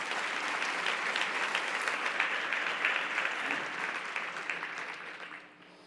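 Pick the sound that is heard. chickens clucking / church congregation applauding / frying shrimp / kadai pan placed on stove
church congregation applauding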